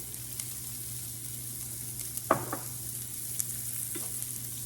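Spanish rice with tomato bouillon and garlic stirred in a pan, with a few brief scraping strokes over a constant quiet sizzle, close by and otherwise calm, with no voices.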